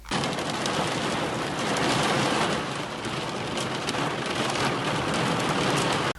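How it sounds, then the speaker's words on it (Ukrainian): Heavy rain mixed with hail pounds down in western Ukraine. It makes a loud, dense, continuous roar of drops striking surfaces, steady throughout, with rougher peaks that fit hail impacts, and no voices. "На заході України влупив дощ із градом."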